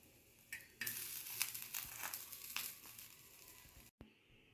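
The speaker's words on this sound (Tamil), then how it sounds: "இதை நம்ம தோசைக்கல்லில் போட்டு லைட்டாக எண்ணெய் ஊற்றி நம்ம டோஸ்ட் பண்ணி எடுக்க போகிறோம்." A bread sandwich toasts in a little oil on a dosa griddle over low flame, with soft sizzling bursts and crackles close by that rise and fall, then a brief gap and a faint hiss.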